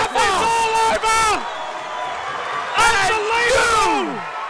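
A crowd roars and cheers at an XFC 36 mixed martial arts event after a quick finish, a dense sustained wall of cheering and whoops with loud excited commentary voices breaking over it in bursts.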